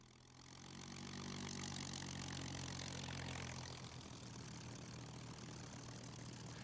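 A Rolls-Royce-owned PR.XIX Spitfire flies past at an air display, its piston engine swelling into a loud, steady drone with a throbbing low hum, then easing off slightly as it moves away.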